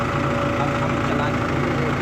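A tandem road roller's engine idles steadily after starting, a low, even rumble held throughout the short stretch while a person talks nearby.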